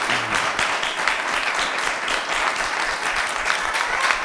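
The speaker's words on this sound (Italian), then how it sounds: "facciamo un applauso al nostro Mariano" An audience at an Italian television show applauds, sustained dense clapping from a large crowd that holds steady throughout without voices.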